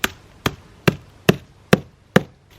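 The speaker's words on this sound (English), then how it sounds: "get the biggest hammer you can find, and then start smashing them" A heavy hammer smashes pine cones laid on stone or concrete, six sharp evenly spaced blows about half a second apart, loud and close with no voices.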